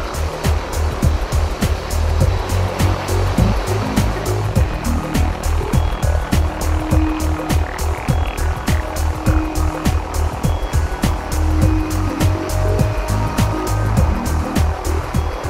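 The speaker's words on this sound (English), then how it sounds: "The helicopter assists with positioning the huge ringnets into place" A loud, steady helicopter drone with rapid rhythmic blade chop, close by and continuous throughout, with no voices, as the helicopter positions rockfall barrier ringnets at a mine site.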